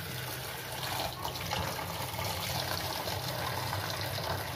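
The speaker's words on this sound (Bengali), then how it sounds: "জল দিয়ে দিই।" Tap water runs steadily into a pot of eggs, a continuous close splashing and filling sound that holds at an even level throughout with no voices over it.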